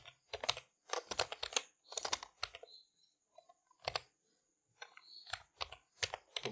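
A computer keyboard is typed in quick bursts of crisp, close clicks, with short pauses between groups of keystrokes while a name is entered in Windows Server.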